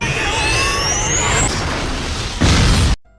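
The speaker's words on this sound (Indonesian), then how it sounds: "terdengar ledakan dari salah satu mesin pesawat yang masih hidup" A running airplane engine explodes in a film, heard as a loud roaring blast with rising whine and rumble that surges into a final burst before cutting abruptly to silence.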